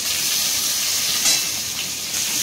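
Chopped onion sizzles in hot oil seasoned with cumin seeds and bay leaf, reused from frying potatoes for a Bengali masoor dal; a steady, close frying hiss runs throughout with no talk.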